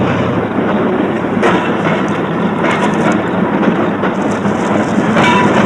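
A train wagon rolling along rails in an action film, a loud, dense rumbling roar with faint rhythmic clatter and wind buffeting, continuous throughout with no talk.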